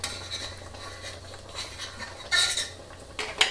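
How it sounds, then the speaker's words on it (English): A spoon stirs pineapple jalapeno jelly flecked with pepper flakes in a cooking pot, with soft scraping and clinks against the metal under a low steady hum, then a few brighter, louder clatters near the end. "I'm just going to stir and make sure that it's not sticking"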